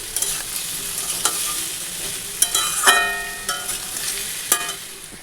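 Chickpea and taro curry simmering and sizzling in a pan after a tempering of cumin seeds, bay leaf and green chilli, with steady close frying hiss and occasional clinks of stirring.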